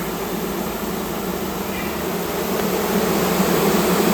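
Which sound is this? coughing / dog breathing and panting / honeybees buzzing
honeybees buzzing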